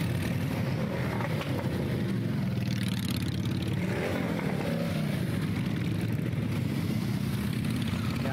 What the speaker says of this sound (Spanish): Escuchemos el ruido de los motores